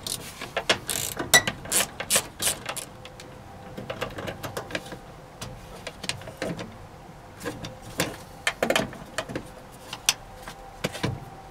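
A ratchet with an 8 mm socket backs out screws on a first-generation Hyundai Santa Fe during fuel pump work, giving repeated bursts of fast, close metallic pawl clicking with short pauses between turns and no talking.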